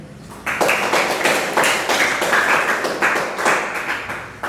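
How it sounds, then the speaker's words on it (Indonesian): A small group applauds presenters during a class session, giving several seconds of close, lively hand clapping that swells in uneven bursts with no talking. "Tepuk tanganlah dulu untuk mereka."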